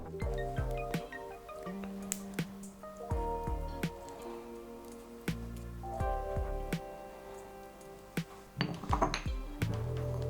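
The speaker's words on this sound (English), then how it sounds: "So I have some cardamom pods here and I'm gonna crush them." Cardamom pods being crushed for an apple cake batter, giving a string of sharp clinks and knocks, some crisp and close, with scraping between them and a louder burst of taps near the end; no one speaks.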